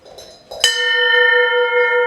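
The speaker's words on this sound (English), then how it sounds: "This bell went up a few years back." A large bell hangs in an old barracks and is struck once, a sharp metallic clang that rings on with a long, steady, shimmering sustain; a couple of soft knocks precede the strike.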